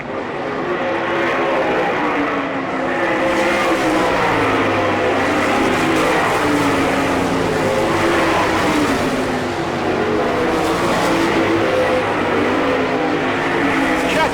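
Sprint race cars roar steadily around a dirt track at Selinsgrove in an All Star Circuit of Champions event, a continuous loud engine drone rising and falling as the pack circles, without breaks throughout.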